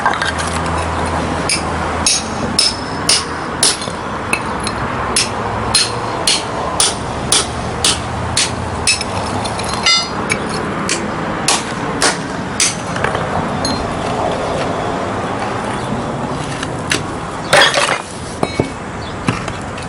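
Hammer and chisel chipping at old stone steps during a repair, a steady series of sharp metallic taps close by, repeating roughly every half second with a few heavier blows near the end.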